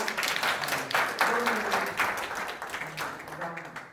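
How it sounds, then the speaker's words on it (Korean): An audience at a forum on a regional road project claps for the presenters and panelists, a full burst of many hands that swells early and gradually tapers off, with a voice speaking over the clapping. "전체 발표자와 토론자에게 박수 한번 치시고"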